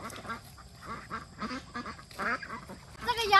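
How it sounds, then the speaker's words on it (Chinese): Fat domestic ducks fed on corn and feed quack in a farmyard, a run of close, repeated nasal calls that grows louder toward the end, with faint background noise. "这个鸭子实在是太肥了"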